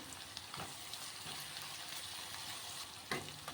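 Onions frying in a pan with turmeric for a village-style greens and carrot fry, a quiet steady sizzle with occasional soft stirring scrapes, close and without talk.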